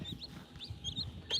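Blue partridge Brahma chicks and hens on a small farm, heard close as a few soft low clucks and high peeping chirps in short bursts. The calls are scattered irregularly across a brief stretch, with no talking.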